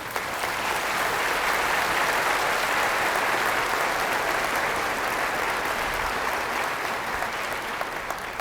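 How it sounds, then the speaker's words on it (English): A church congregation breaks into sustained applause during a bishop's homily, a dense, even roar of many hands clapping that holds steady throughout with no talking. "I think that deserves an applause"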